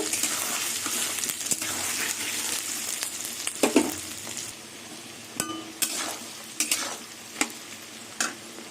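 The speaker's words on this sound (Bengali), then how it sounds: "এই আলু পেঁয়াজ ভাজছি এই ভাজার মধ্যে টমেটোগুলো দিয়ে দেবো" Potatoes and onions frying in oil in a kadai give a steady close sizzle, broken by a few sharp clinks of a spatula or spoon against the pan, with no talking.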